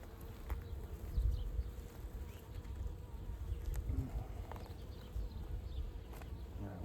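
Honey bees swarm and buzz steadily around an open beehive during a frame inspection, a dense continuous drone at close range with brief bursts of handling noise.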